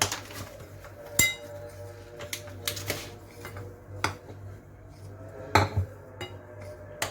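Dry coating for fried chicken being mixed in a bowl, giving scattered clinks and scrapes of a utensil against the dish, with a few louder knocks, close and alone.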